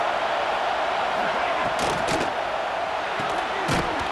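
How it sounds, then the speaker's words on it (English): A football stadium crowd roars steadily in support of the home defense, a dense, continuous wash of cheering with brief louder swells near the middle and end. "Listen to this crowd just shaking the girders of this place, trying to help their defense."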